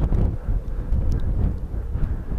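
Strong storm wind buffets the microphone outdoors on a rural dirt road, a dense, rumbling roar that surges and dips without pause.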